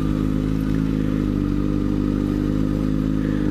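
An older car with white wall tires drives by on a downtown street, giving a steady, loud, rumbling engine and road noise close by that holds level from start to finish.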